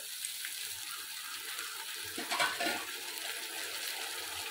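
Hot water is poured into chicken gravy for chicken angara, a steady soft rushing hiss that swells briefly midway, fairly faint, with no one talking.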